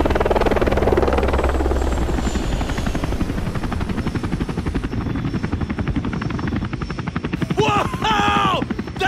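A helicopter in the Shaun White Skateboarding video game thrums with a steady rotor chop and engine drone, loud and continuous, with a voice briefly chiming in near the end.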